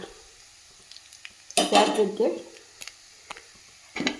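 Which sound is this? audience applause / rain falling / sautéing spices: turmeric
sautéing spices: turmeric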